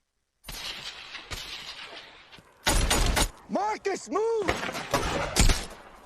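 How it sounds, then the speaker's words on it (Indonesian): Sharp bursts of gunfire and explosive blasts crack through a chaotic battle scene from the war film Lone Survivor, with shouting voices and rising whistling tones mixed in, loud and close. "Setelah diberi perintah dari Mike, kemudian pertempuran pun terjadi."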